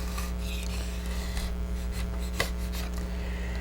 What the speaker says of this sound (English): take the putty knife, and all you do is slide it along the wood here, and you'll trim that little bit that was sticking up